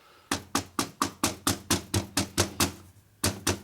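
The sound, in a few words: hammer tapping piston ring into engine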